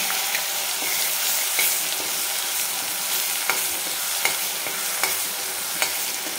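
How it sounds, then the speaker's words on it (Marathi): Coconut and onion paste is sautéed in a pan under a dense, even sizzle, while a spatula scrapes and taps the pan at a regular rhythm about once a second, close and loud. "छान आता याला आपण परतून घ्यायचं आहे आपल्याला"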